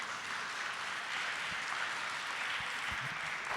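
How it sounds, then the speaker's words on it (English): An audience at a keynote talk applauds a speaker, a soft, even wash of distant clapping that holds steady throughout with no one speaking over it. "Let's have a round of applause for Dr."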